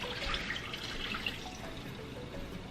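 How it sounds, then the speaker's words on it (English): Water pours steadily into a pot of Cameroon-style beef peanut butter soup with tomato paste, a soft continuous trickle and splash heard close by, fairly quiet, with no talking. "Add some water."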